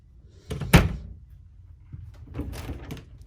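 A closet door inside a 2006 Land Roamer 285RK fifth wheel RV opens and shuts, giving a sharp close thunk followed later by softer rattling knocks, heard up close in a quiet interior.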